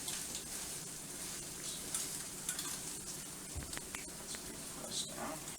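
Egg and cheese fry in a pan, a steady soft sizzle with faint scraping and stirring underneath, close and fairly quiet throughout.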